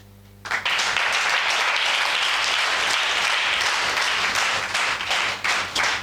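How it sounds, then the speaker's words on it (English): A church congregation at a prophetic and deliverance service breaks into loud, sustained applause after a short quiet pause, with many hands clapping densely and evenly until it tapers off at the end. "Clap."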